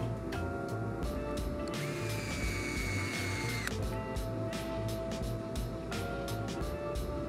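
A power driver spins screws into a transmission skid plate on a Pro-Line PRO-Series 32P RC transmission, a steady whirring run with a higher whine, under continuous workshop background.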